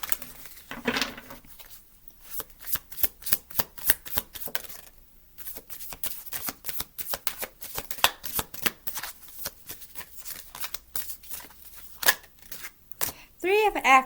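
Guardian Angel tarot cards shuffled by hand in a quick riffling, rapid run of soft papery flicks with brief pauses, close and fairly quiet, a voice briefly heard near the start.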